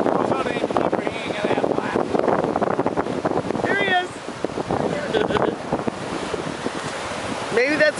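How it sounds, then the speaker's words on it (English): Ocean surf rolls steadily at a beach near sandbars, a continuous wash of waves mixed with wind buffeting the microphone, while excited voices talk over it throughout. "Look at that wave behind him."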